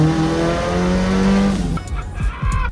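A 1.8-liter turbocharged Chevy Cruze converted to all-wheel drive, making a full-power pull: loud, close engine note climbing steadily in pitch for about a second and a half, then dropping off into rougher, uneven engine and tire noise.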